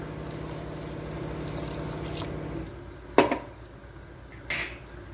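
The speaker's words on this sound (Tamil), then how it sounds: "இப்போ நம்ம தண்ணி சேர்த்துக்கலாம்." Water poured into masala frying in oil for parotta salna, a steady pour and sizzle that fades, followed by two sharp splashy bursts.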